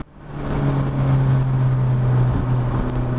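A Hyundai i30 N engine hums steadily at low revs accelerating in second gear, pulling a sustained droning tone with a brief dip partway through before settling again.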